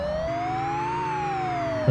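A police car siren in the Amiga racing game Test Drive II: The Duel wails steadily, its tone sweeping slowly up and then back down, loud and continuous with no talk over it.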